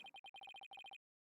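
A phone ringtone in the video game Ace Attorney: Dual Destinies, a rapid series of bright electronic beeping pulses in a quick rhythm, clean and close, stopping abruptly.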